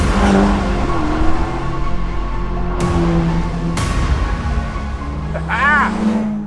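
Ferrari Portofino M with a twin-turbocharged 3.9-litre Italian V8 on a British road: steady engine drone with rising revs and gear-change shifts, fairly loud and continuous, with a short whine near the end.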